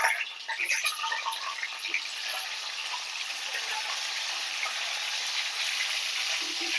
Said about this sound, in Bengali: তেল গরম হয়ে গেছে, এবার ডিমগুলো দিয়ে দেব